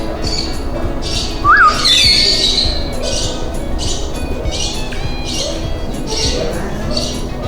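A zoo bird gives a loud, brief screech up close, followed by scattered squawks and chirps from other birds against steady background noise.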